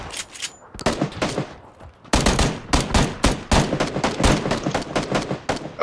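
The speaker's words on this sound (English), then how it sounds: "He's shooting at me." Gunfire in the video game PUBG (Battlegrounds), rapid close bursts of automatic shots and single cracks in dense clusters after a short quieter lead-in, loud and sharp.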